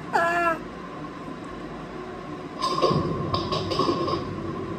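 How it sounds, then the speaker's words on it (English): Pet cats caught on a home kitchen camera, one giving a loud, rising meow at the start, then quieter background noise with a later burst of rustling and faint cat sounds. "What are those cats?"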